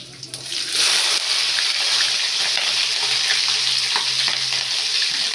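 Green chillies dropped into hot oil with cumin seeds for chitranna gojju burst into a loud, crackling sizzle that holds steady and close, with faint spatters and stirring scrapes mixed in.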